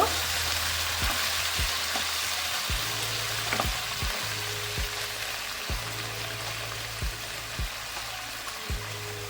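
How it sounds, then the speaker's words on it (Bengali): Masala sizzles steadily in a pan for potato dum, with a splash of water just added, while regular scraping stirs knock through the hiss roughly every second, close and continuous with no talk. "মশলাটা যাতে না পুড়ে যায় তার জন্য অল্প একটু জল দিয়ে দেবো একটু নেড়ে নেব"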